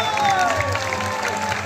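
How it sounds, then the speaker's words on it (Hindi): Audience applause at a qawwali performance in Dammam, Saudi Arabia, a steady wash of clapping with crowd noise under a held sung or harmonium-like tone. "मैं चाहूंगा जोरदार तालियां बेटियों के लिए।"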